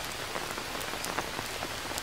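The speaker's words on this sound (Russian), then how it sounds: "Наступает дождь в час ночи, да?" Rain falls steadily in the survival game Green Hell, a dense, even patter of drops striking surfaces that continues without a break and without any voices.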